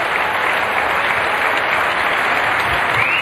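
A Wimbledon 2018 tennis crowd at the Del Potro vs Lopez match roars with sustained cheering and dense applause, loud and steady throughout with no voices standing out.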